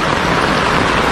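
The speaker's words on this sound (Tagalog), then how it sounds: "malakas ang ulan" Heavy rain pours down in a dense, loud, continuous hiss with no gaps, close and steady.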